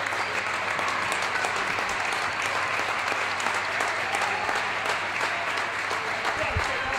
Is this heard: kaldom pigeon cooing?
no